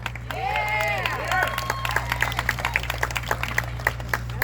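A crowd at the Progress Iowa Corn Feed gives Pete Buttigieg a standing ovation. Whistles and cheers over busy clapping fade into a sparser run of individual claps, over a steady low hum and crowd murmur.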